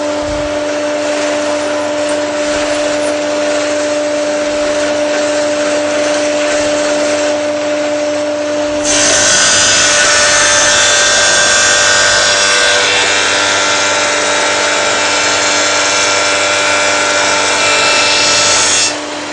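A Shopsmith SS105 planer roars steadily as it planes a board, running loud and continuous, with the pitch and noise rising sharply halfway through as the board feeds into the cutter.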